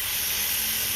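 Steam hisses steadily from a covered pot of chicken cooking with added water, a brief, even and moderately quiet rush with no voices.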